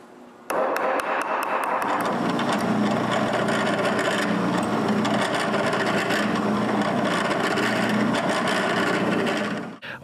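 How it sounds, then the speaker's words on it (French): A drill bores steadily into a wooden block to make holes for a claw nut (T-nut) that will adjust a wheel. The whirring, grinding bite into the wood is close and loud, starts abruptly and runs nearly ten seconds before stopping. "Maintenant, je peux percer les trous pour l'écrou à griffe qui servira d'ajustement pour la roue"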